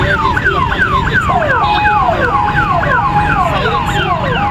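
A loud, close vehicle siren, one of those fitted to city traffic-control two-wheelers, wails in rapid repeating up-and-down sweeps, steady throughout with no talk.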